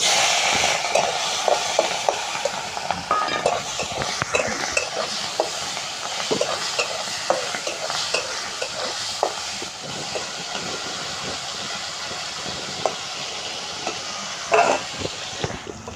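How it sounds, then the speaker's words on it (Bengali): A few prawns frying in hot oil in a Bengali kitchen, a loud, close, continuous crackling sizzle with sharp pops and spatters throughout. "চিংড়ি মাছ কটা এবার ভেজে নেব।"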